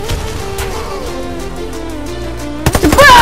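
Gunfire from the online shooter Warface rattles steadily for nearly three seconds under a background music bed, then a sudden burst of louder, harsher game sounds takes over at the end.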